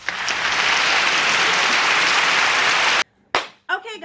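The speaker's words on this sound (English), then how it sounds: "Can we do it again with the applause?" Loud, dense applause and clapping fills the first three seconds, then cuts off abruptly, followed by a brief burst of sound and a moment of a voice.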